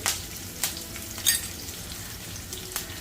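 Curry leaves and a pinch of asafoetida hit hot oil while making rava upma, giving a steady close sizzle with a few sharp crackling pops and spits.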